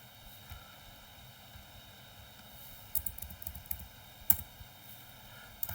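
Code being typed on a computer keyboard in Eclipse, scattered light key clicks over a steady machine hum, sparse at first then a short burst of keystrokes.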